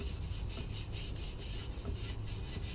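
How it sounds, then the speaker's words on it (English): A dirt bike part from an RM 125 rebuild, rusty and dinged, gets a light scrub: quick, regular back-and-forth rubbing strokes, close and fairly loud, with no voices. "Just give it a light scrub."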